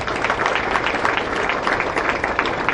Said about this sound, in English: let's give a round of applause for our site coordinators